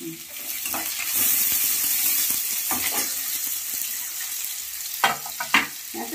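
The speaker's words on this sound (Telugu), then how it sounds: "వేగినాక కొంచెం ఉల్లిపాయలు, ఈ ఉల్లిపాయలు బాగా వేగకూడదు." Onions fry in a pan for a tamarind-based raw pulusu with brinjal, a close, steady sizzle with stirring scrapes and a few sharp clinks near the end, no talking.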